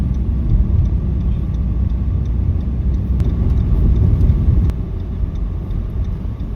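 A car drives along a narrow side road beside a bridge approach near Kolaghat, a steady close rumble of engine and tyre noise with faint clicks, and no voices.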